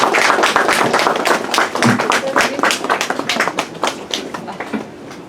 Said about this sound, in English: give a huge clap